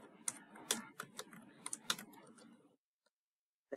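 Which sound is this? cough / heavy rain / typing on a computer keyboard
typing on a computer keyboard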